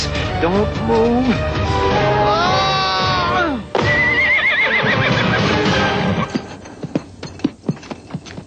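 A cartoon horse in an Aladdin story lets out a loud, wavering whinny that rises and falls for several seconds, then cuts to quick, sharp clip-clop hoof beats.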